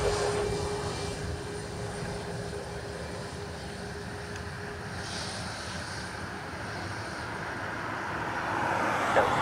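A plane taking off from Dublin Airport, its engine roar a steady broad rumble that swells slightly toward the end, heard from a distance with a faint tonal whine running through it.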